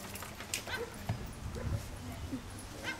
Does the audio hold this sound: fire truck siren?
no